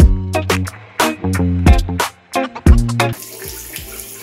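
Cold water from a tap runs into a sink in a morning skincare routine, loud and close, with the stream splashing in uneven bursts and stops, as though the flow is caught in hands and interrupted.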